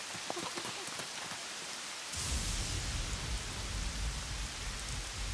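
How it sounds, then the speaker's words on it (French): Heavy rain falls outdoors as a dense, loud hiss that swells abruptly partway through into a steady roaring downpour, with scattered drips audible before. "Je crois qu'il va pleuvoir pendant encore un bon moment."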